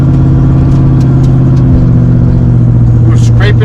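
Engine of a lowered truck fitted with new extreme performance exhaust pipes, a loud, close, steady rumble with a shift in pitch midway, ending with a brief higher note.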